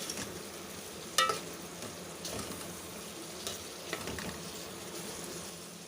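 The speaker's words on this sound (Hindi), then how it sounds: "अब हम टमाटर और प्याज को अच्छी तरह से भून लेंगे" Tomatoes and onions fry in a pan over a low-to-medium flame for tomato onion chutney, giving a soft, steady sizzle with a few scraping stirs, close but quiet, with no talking.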